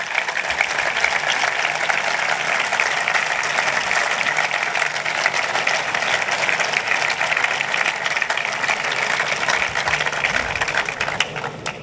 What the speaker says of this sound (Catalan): Demano per ell un fort aplaudiment de reconeixement.